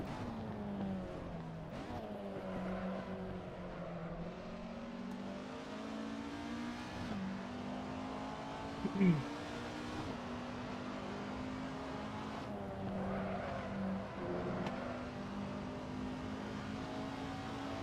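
Race car engine in Assetto Corsa during an SRS online race, held at a steady high drone through a corner with slight pitch shifts as the revs change, plus a brief tyre or bump noise partway through.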